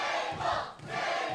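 A wrestling crowd at a street-fight show roars and chants in unison, a dense, loud wall of voices that swells, dips briefly, then surges again.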